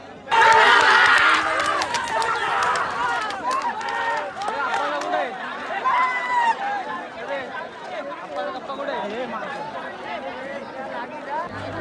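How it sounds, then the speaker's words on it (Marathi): A busy crowd gathered at the Kundal hangout fills the air with loud overlapping chatter and excited voices, strongest at the start and continuing as a lively hubbub throughout. "काय व्ह्यू आहे समोरचा आणि काय गर्दी आहे अड्ड्यात"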